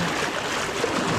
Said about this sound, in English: Slogging straight up current in knee-deep plus water.